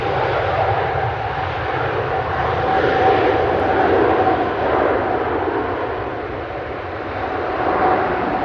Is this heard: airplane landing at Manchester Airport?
yes